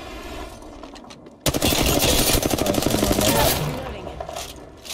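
R-301 assault rifle firing in Apex Legends, a loud, close, sustained burst of rapid automatic shots lasting a couple of seconds, with faint game sounds before and after.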